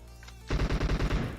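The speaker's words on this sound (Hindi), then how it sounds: "अब ये देखो भाई एकदम से फायर हुई" Gunfire from PUBG Mobile on a military base map opens with a sudden burst: about eight rapid, loud, evenly spaced automatic shots that start abruptly after a brief quiet and carry to the end.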